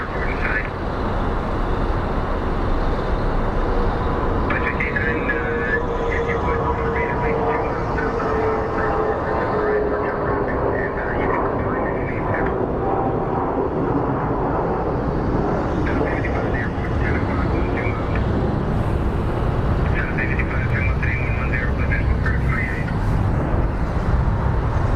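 American Airlines jet departing at Phoenix Sky Harbor airport, a broad sustained roar over distant traffic, with a voice talking faintly at times.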